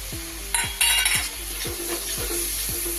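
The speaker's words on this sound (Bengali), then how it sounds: "গুঁড়ো মশলাটা দিয়ে খুব ভালো করে আমি কষিয়ে নেব" Ground turmeric, cumin, coriander and Kashmiri chilli powder being stir-fried in a pan, a close, steady sizzle broken by repeated rhythmic scrapes and knocks of a spatula, with brief louder hissing bursts.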